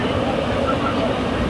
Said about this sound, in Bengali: পরন্ত বিকেলে আমাদের ট্রেন কিন্তু ছুটে চলেছে